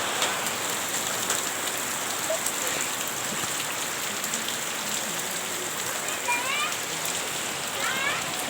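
Steady rain pours down outdoors, a dense continuous hiss of drops hitting surfaces, with faint chirpy sounds near the end and no clear talk.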